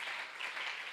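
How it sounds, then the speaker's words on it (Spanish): Brief burst of church congregation applause at a Spanish-language youth camp worship night, a steady dense wash of many hands clapping, fairly faint and continuous with no clear speech. "Aplauda a Dios en esta noche."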